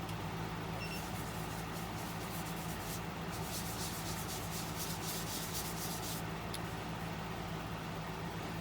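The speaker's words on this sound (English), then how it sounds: "It's time for some abrasive paste. Using some Axe abrasive paste now." Ambrosia maple bowl spinning on a wood lathe while abrasive paste is worked into it, a continuous low motor hum with steady soft rubbing hiss over it, faint and unbroken.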